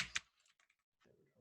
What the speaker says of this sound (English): as I've been typing in these different search alternatives